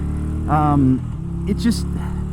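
A Moto Guzzi Griso 1100 motorcycle rides along tight, twisty roads, its engine a steady low rumble beneath someone talking close to the mic.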